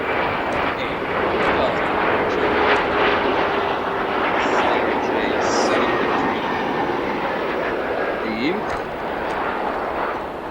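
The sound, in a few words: CRJ900 airliner arriving at O'Hare airport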